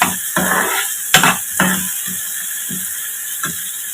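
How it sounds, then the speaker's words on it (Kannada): Chopped green chillies frying for paneer bhurji, with a few scraping stirs of a spoon in the pan over a steady hiss, the strokes fading to lighter taps toward the end. "ಒಂದು 3 ಮೆಣಸಿನ್ಕಾಯಿ ಸಣ್ಣಗೆ ಕಟ್ ಮಾಡಿಕೊಂಡು ಹಾಕೊಳ್ತಾ ಇದ್ದೀನಿ. ಇದೆಲ್ಲ ಸ್ವಲ್ಪ ಫ್ರೈ ಮಾಡ್ಕೊಳ್ಳೋಣ."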